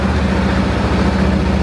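A motorcycle engine with just over 7,000 km on it idles close by, a loud, steady low rumble with an even pulsing throb and no voices.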